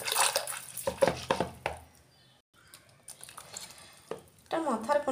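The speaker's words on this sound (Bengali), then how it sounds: "আমি একটু ব্লেন্ড করে নিচ্ছি, যত দুধের খোয়া আছে এই মাখনটার মধ্যে এটা বেরিয়ে যাবে" Butter being stirred and blended with a whisk in a pot while making ghee, giving soft wet churning and sloshing bursts with short pauses and a quiet stretch in the middle.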